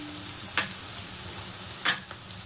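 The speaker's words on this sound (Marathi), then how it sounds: "कांदा छान तेलामध्ये मिरच्या आणि कांदा परतून घ्यायचा आहे" Onions and green chilies sauté in oil with salt, giving a soft, steady sizzle with a couple of sharp scraping stirs of a spoon against the pan.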